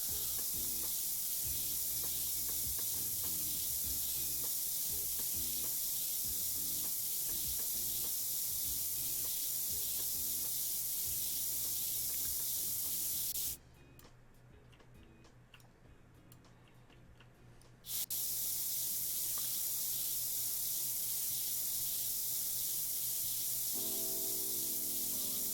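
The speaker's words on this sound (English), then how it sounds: "we're just spraying over" Spray paint hissing onto a model in the Model Builder game, a steady broad spray running continuously with a short gap in the middle, alongside quiet ticking game sounds.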